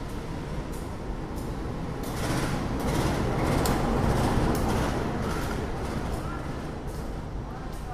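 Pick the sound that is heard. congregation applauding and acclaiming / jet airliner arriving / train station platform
train station platform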